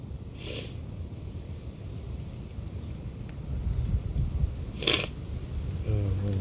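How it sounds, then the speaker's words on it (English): Low wind rumbles against the microphone outdoors, steady and moderate, with a couple of brief sharp hisses. "Also windy out here, so if you can't hear me."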